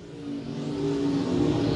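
Stock cars race around a dirt speedway oval, their engines droning and building in a steady, moderately distant roar as the pack approaches, with no talk.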